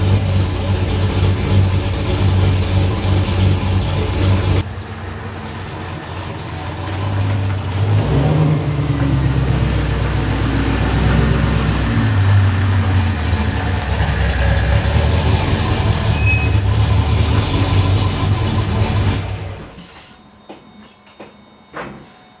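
An LSA-powered Pontiac G8 on new drag radials drives around the block, its engine droning loud and steady, dipping briefly, then pulling again before fading away near the end.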